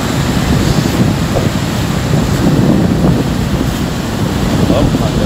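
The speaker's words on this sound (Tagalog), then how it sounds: "Parang may galit na dagat." Ocean surf rolling and crashing on a beach, a steady loud wash with repeated breaking waves, heavy wind buffeting the microphone throughout.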